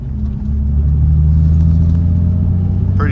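A manual transmission car accelerates in second gear, its engine a steady, loud, close rumble with a low droning tone that holds throughout and no talk over it.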